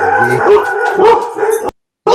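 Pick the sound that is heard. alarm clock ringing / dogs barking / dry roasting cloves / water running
dogs barking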